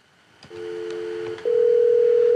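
A SIP desk phone in a call-transfer demonstration sounds a steady electronic tone after a soft click, then shifts to a slightly higher, louder sustained tone, close and clean.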